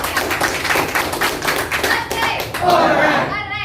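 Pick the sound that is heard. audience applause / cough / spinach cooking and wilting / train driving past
audience applause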